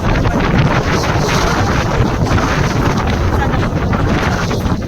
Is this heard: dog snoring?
no